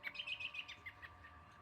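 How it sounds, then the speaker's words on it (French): Small birds near suet feeders chirp in a quick run of bright, high tweets, faint and at a distance, with the calls thinning out toward the end and no voices. "Il y a des oiseaux qui sont vraiment pas farouches."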